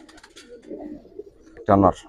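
Giribaz pigeons in a loft give a single loud, close coo near the end, after a stretch of softer low murmuring and faint bird sounds.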